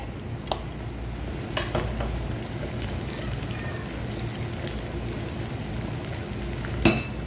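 Garlic, ginger and spices for a tadka dal frying and browning in a pan, a steady close sizzle that holds level throughout, with a few faint clinks over it.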